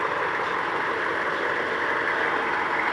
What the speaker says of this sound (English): Straight exhaust with the dual stacks, so it's gonna louden her up just a little bit for the exhaust wise